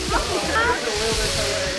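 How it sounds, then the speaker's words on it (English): A waterfall pours into a pool at a swimming spot in Puerto Rico, a steady rushing hiss close by with voices talking over it. "we're here at the waterfall"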